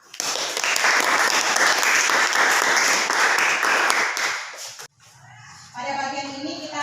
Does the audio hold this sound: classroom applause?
yes